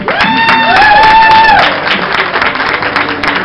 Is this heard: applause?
yes